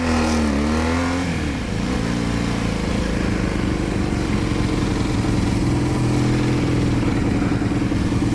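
Yamaha R1 sport motorcycles roar hard on an evening ride, one engine revving and accelerating close by with a loud, continuous, rising drone and heavy wind buffeting throughout.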